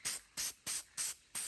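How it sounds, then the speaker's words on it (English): Guide coat sprayed from a can onto bodywork of a 1974 GMC Suburban in five short, evenly spaced hissing bursts, each about a fifth of a second, close and fairly quiet with brief pauses between. "we're just going to spray it on there lightly on each of these spots here"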